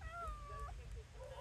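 A pet cat meows indoors, a few short, clear calls close by against a quiet room, with a person speaking nearby.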